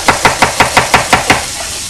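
A knife chops through an onion on a cutting board in about eight quick, evenly spaced strokes, each a sharp close thud, before the rhythm stops.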